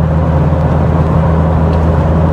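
A Honda Civic Type R two-litre engine drones loudly and steadily nearby, a constant low hum held without clear rises in revs.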